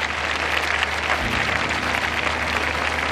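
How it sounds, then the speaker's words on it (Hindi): Audience applause at the Allahabad Friendship Festival, a steady dense clapping that fills the whole stretch at a fairly loud, even level with no voices over it. "आइए ताली बजाकर एक दूसरे का स्वागत करें।"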